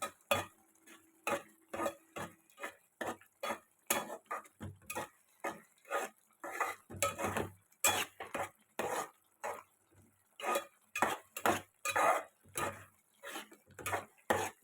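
A spoon stirs bottle gourd milk curry in a pot, giving repeated close scraping and clinking strokes in a steady, brisk rhythm, with no talking.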